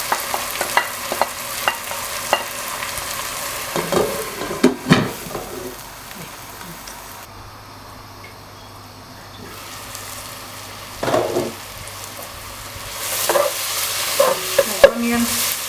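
Spices, tomatoes, Maggi seasoning and grated carrots frying in a pan with fried onions for rice, soft sizzling with intermittent stirring scrapes and clatters, plus a quieter stretch midway.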